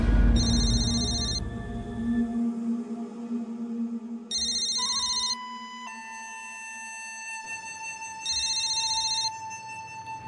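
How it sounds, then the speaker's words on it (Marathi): A phone ringtone plays in a repeating electronic pattern, bright chiming bursts recurring at regular intervals, fairly loud and close, with a low hum underneath and no talking. "समीरचा फोन आहे."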